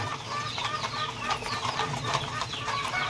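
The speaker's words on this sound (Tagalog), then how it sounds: "Nagpapakain tayo ng ating mga manok nga." Backyard chickens crowd and scramble for feed, giving a steady mix of clucks and murmuring calls at close range with constant farmyard rustle beneath.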